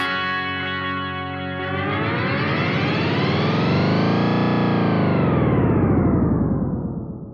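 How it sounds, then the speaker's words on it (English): A dense, distorted tape echo delay, from a BOSS RE-202 Space Echo pedal's twist effect, swells and warps, its repeating tones sweeping upward then bending back down in a wobbling, pitch-twisting wash before fading. "So this twist effect, it's pretty unique."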